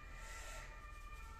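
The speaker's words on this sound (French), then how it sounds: "les klaxons de pompiers ou de police dehors" Emergency siren from a fire engine or police car outside, a steady distant wail that stays faint and continuous behind the indoor room tone.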